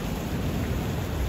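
Steady rain falls on New Year in Dubai, a dense, even hiss of drops on surfaces, continuous and fairly close, with no voices.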